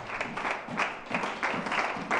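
A church congregation applauds, a loose crowd of clapping with uneven rhythmic pulses, moderately loud and close, sustained for a couple of seconds.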